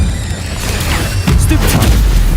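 Incendio fire spell cast in Hogwarts Legacy, a loud whooshing burst of flame with booming low rumble that swells midway and sustains to the end, set against game ambience.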